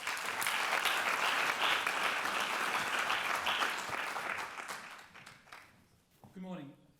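An audience at a Yale School of Management masterclass applauds steadily to welcome a speaker to the podium; the clapping is loud and sustained, then fades as a voice begins talking at the end.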